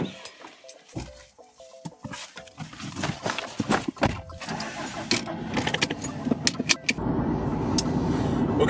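A car engine cranks and catches, then runs and drives off, a steady rumbling drone building to a louder, denser road noise toward the end, preceded by assorted clicks and clunks nearby.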